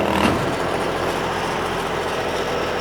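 Kubota diesel engine on a cold-water trailer jetter pump (12 GPM at 4,000 PSI) idling steadily, a loud, constant, close-up drone with a brief louder burst at the very start.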